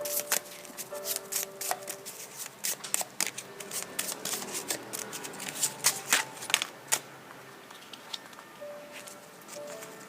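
Tarot cards riffled and shuffled by hand in quick, uneven bursts of crisp flicking and slapping, close and fairly loud, with no voices.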